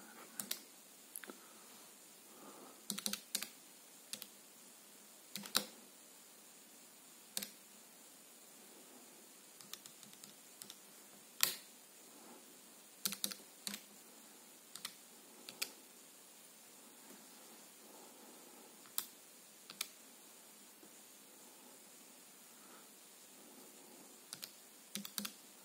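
Calculator buttons are pressed while working a maths exam question, giving a scattered series of sharp, isolated clicks over a faint steady hiss, with no voice.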